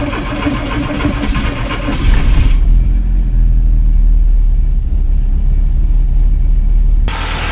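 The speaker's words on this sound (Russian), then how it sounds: "Вот видите, мотор работает хорошо." A VW Golf 2 with a 1.8 GX engine runs loudly after starting, a steady low rumble swelling after a couple of seconds and holding evenly before cutting off near the end.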